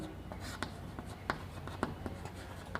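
Someone writes on a board during a maths lesson, producing soft, irregular scratching strokes and taps, quiet and close, with someone talking over it.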